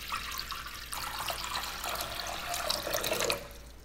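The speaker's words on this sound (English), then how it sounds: "after a little bit of air pumping and noise making, we see a nice and strong stream coming out of the filter compartment" Vinyl record cleaner tank with an in-tank filtration pump circulating water, a steady splashing stream that starts after a brief low hum and runs continuously, then drops off near the end.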